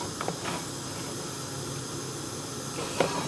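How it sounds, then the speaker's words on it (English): A cooking stove lit in a home kitchen gives a steady, soft gas hiss that holds evenly throughout, with a couple of faint clicks and knocks near the start and end. "I'm just going to turn my stove on, which I have here"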